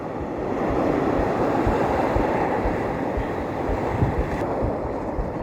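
Steady ocean waves wash and surge around a small fishing boat at sea, a loud continuous broadband roar with wind buffeting the microphone and no voices.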